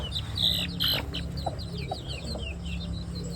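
Native chickens clucking in a coop during egg laying, with repeated short clucks and squawks up close over a steady farmyard background hum.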